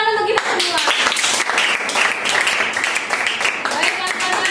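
Classroom of students clapping hands together at the end of a lesson, a dense, steady patter of many hands filling the room throughout, with children's voices mixed in.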